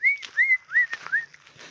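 A small bird calls near its nest in a Sertão backcountry setting, giving a series of four clear rising whistled notes in quick succession, close and fairly soft, over a faint quiet background.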